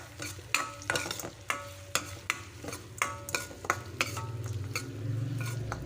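A few curry leaves fry in oil for a bitter gourd curry, with a soft sizzle under a regular series of sharp spoon scrapes and taps against the pan, close and fairly quiet.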